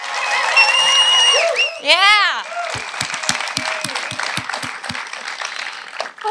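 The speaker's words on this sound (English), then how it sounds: "So if I could get a big round of applause for all of those amazing people." Applause and a few cheers from a festival award show audience, with a voice speaking over the clapping, whooping sounds near the start, and steady clapping continuing underneath.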